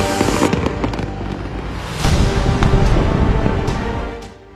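Diwali fireworks and firecrackers bursting in a continuous loud barrage, dense overlapping bangs and crackles with sharper pops standing out, swelling louder midway before tapering off at the end.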